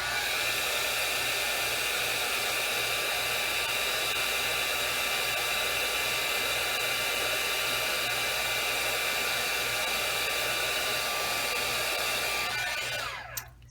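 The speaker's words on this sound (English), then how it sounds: "And then we're going to heat this real quick with our heat gun." A heat gun blows a steady, loud, airy roar while heating embossing powder on a handmade card, holding constant for over twelve seconds before clicking off with a short rattle at the end.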